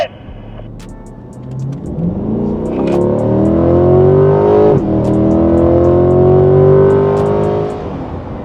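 A 2025 C8 Corvette's naturally aspirated V8 revs hard under acceleration, rising in pitch through one gear, a brief dip at a shift, then climbing again, loud and close from inside the car.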